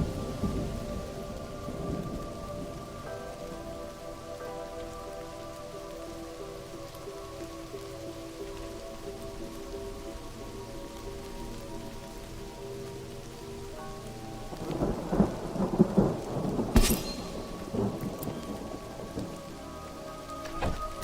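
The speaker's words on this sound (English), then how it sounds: "Storm is raging." Thunderstorm with steady rain in the video game Mind over Magic: a constant patter of rainfall with low rumbling thunder that swells into a louder crack near the end.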